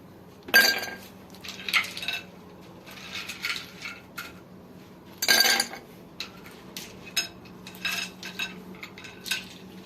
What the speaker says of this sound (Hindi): आइस डालेंगे।